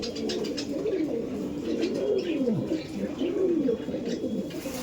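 Kaldom pigeons in a loft coo in repeated soft, throaty rolling calls, several in sequence over a steady background hum.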